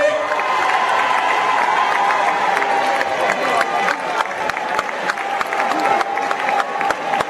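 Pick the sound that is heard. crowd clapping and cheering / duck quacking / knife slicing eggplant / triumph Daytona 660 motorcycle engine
crowd clapping and cheering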